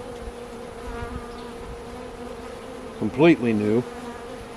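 Honey bees hum with a steady close buzz during a first hive inspection, and a voice speaks briefly over the droning toward the end.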